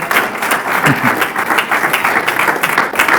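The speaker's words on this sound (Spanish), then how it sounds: "Dele ese aplauso al Señor." A church congregation claps together in a loud, close burst of applause, the individual claps uneven and rippling for a few seconds without voices.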